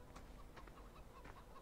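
Chickens clucking in the farming video game Landwirtschafts Simulator 2015, a few soft, short clucks scattered over a faint constant background, quiet and without speech.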